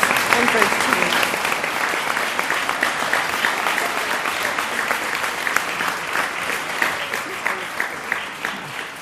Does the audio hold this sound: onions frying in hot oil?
no